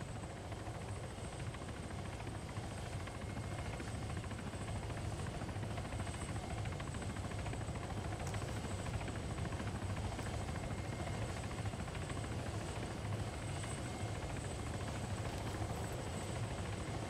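A helicopter in a military video game, its rotor and engine droning loud and steady throughout as a constant whirring roar with no pauses.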